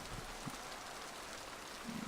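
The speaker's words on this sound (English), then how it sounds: "It's raining. You can actually see, well, I hope you can see, there's a pretty nice rain effect on Shepard's armor there." Steady hiss of rain falling in the Mass Effect 2 video game, an even wash of patter throughout with faint low thumps, no talk.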